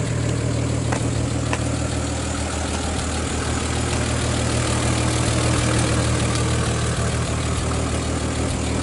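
A 1951 Studebaker engine idling with a slight exhaust leak, a steady, even low rumble close to the microphone with faint ticking over it, running alone without talk throughout.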